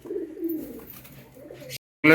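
Low, rolling pigeon coos fill most of the clip, with a brief silent gap near the end before the sound resumes abruptly.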